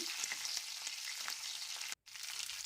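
Garlic, green chillies and curry leaves fry in oil with a faint, even hiss and small crackles, broken by a momentary cut to silence near the end; no voices.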